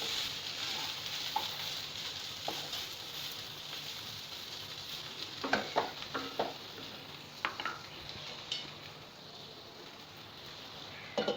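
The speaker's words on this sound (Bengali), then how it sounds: "একটু নাড়িয়ে চাড়িয়ে নেবো।" Lotte fish jhuro being stirred in a pan, with a steady soft sizzle of frying throughout and a few brief scraping clicks of the utensil partway through.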